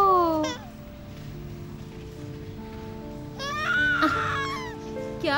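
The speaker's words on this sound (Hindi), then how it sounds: "तुम्हारा बेटा रो रहा है," A small child cries in wavering wails: a burst at the start, a quieter stretch, then a louder run of sobbing cries near the end over a soft background.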